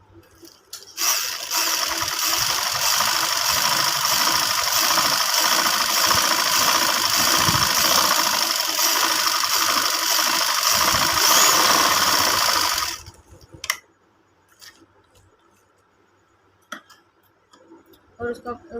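Sewing machine runs steadily for about twelve seconds, stitching a ladies' round fabric band with a loud, even mechanical whir, then stops abruptly, leaving faint handling noises.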